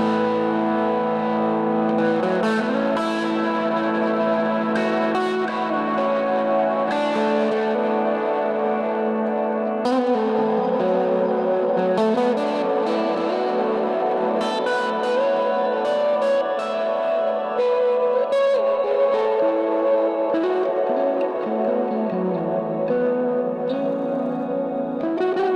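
An electric guitar played through a stereo effects rig rings out in sustained, layered chords and notes washed in deep, detailed reverb and echo, loud and continuous with long smeared tails and no talking.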